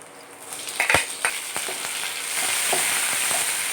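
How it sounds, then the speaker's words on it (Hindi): Chopped onion and tomato fry in a pan over cumin, chili, garlic and ginger for paneer mixed vegetables, a few sharp spoon knocks early, then a steady, swelling close sizzle with no voices. "दोनों को अच्छे से सॉफ्ट होने देंगे और भूनने देंगे"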